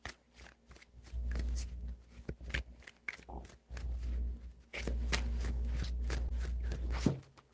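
Tarot cards are shuffled up close, with repeated papery flutters and soft taps coming in short bursts over a low steady hum.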